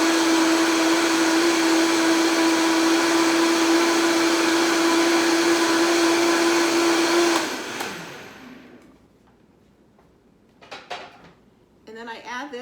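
A blender whirs loud and steady as it blends nutritional yeast flakes, whole wheat flour, onion powder, garlic powder and salt, then spins down; a few clatters of kitchen handling follow.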